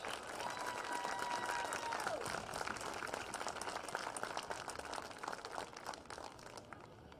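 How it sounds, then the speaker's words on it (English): Crowd applause honours the cheerleading seniors at a high school football game, steady clapping from a large crowd that carries on throughout, heard from a distance. "A round of applause, please, for Mariah Huss."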